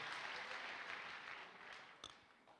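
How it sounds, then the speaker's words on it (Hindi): A seminar crowd applauds a participant who has just sat down, steady dense clapping that gradually thins and fades, with one sharp knock near the end. "शिव सिंह जी के लिए एक मीठी सी ताली हो जाए"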